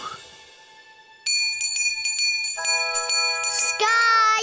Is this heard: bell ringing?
yes